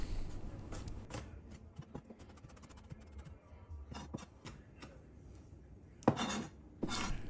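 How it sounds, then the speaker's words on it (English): Knife chopping crushed garlic cloves fine on a board, a run of quick, uneven taps at moderate volume, with a couple of louder knocks near the end. "Give them a bit of a crush and then chop them up pretty fine as well."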